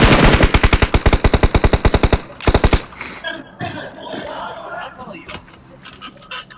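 Rapid automatic gunfire in a video game, a loud fast burst of evenly spaced shots lasting about two seconds, followed by scattered game effects and a voice.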